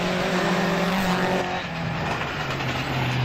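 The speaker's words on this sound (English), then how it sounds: "Here comes the Graceland car, also with a bit of airtime." Rally car at the Tzaneen Rally tearing past at the flying finish, loud engine note roaring close then shifting lower as it moves away, with a continuous rushing wash throughout.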